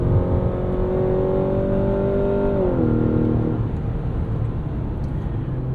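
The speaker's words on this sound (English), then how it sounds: "Quite a bit of piped in engine noise there, and it gets a bit more dramatic in sport" A 2023 Mazda CX-90 plug-in hybrid pipes synthetic engine noise into the cabin while driving, a steady droning hum that rises in pitch, then drops around a gear change, heard from inside with no talking.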